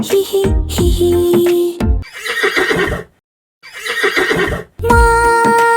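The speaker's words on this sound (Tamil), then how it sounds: "குதிரை எப்படி கனைத்தது?" A horse neighs loudly in a children's animal sounds song, several whinnies in a row with brief gaps, set against bright music.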